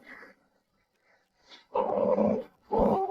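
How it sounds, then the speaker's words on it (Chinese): A small dog growls in short rumbling bursts, two loud close growls after faint quieter sounds, with silence between. "叶哥哥，我们要不要给这只小狗狗起个名字？"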